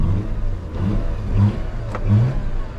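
A car engine revs up and down in repeated surges, loud and close, with no one talking.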